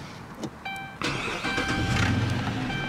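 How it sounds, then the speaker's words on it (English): A 2014 Dodge Charger police pursuit vehicle with a 5.7 HEMI V8 and AWD cranks over briefly with the starter and catches, settling into a steady, close idle after a short burst. "Let's fire her up."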